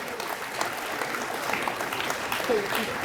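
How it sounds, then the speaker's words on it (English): Applause from the audience at a Richford High School graduation ceremony, a moderate, continuous patter of clapping with a voice speaking over it. "Can we have a round of applause?"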